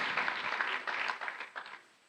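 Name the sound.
applause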